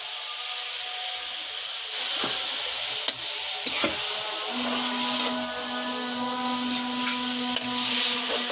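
Chicken frying in a pan with a splash of water added gives a steady, close hiss and sizzle that continues throughout, with faint scraping and no talking.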